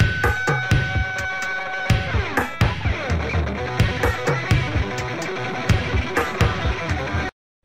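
A thin LinnDrum LM-1 kick drum with short reverb and little low end, hitting in a steady pattern inside a busy 1980s track alongside snare, synths and other instruments, with no talking.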